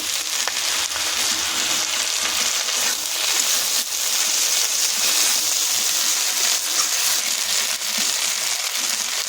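Onion stalks and spice paste of ginger, dried chilli and green chilli frying in oil, a close, steady sizzle with soft crackling and occasional stirring bumps, no voices.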